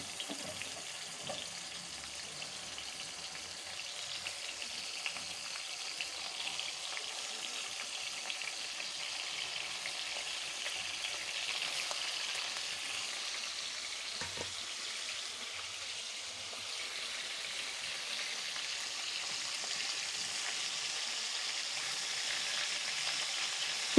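Prawns frying lightly in soybean oil in a pan, a steady, even hiss and sizzle that holds at a fairly constant level throughout, with no speech.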